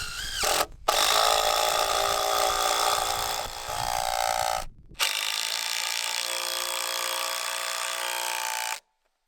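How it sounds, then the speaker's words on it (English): A power drill with a Forstner bit bores countersinks for lag screw heads in wooden duck coop wall framing. It gives a loud, steady whirring grind that stops briefly twice, then ends with the motor spinning freely before cutting out. "I also used this Forstner bit to countersink the heads of the lag screws"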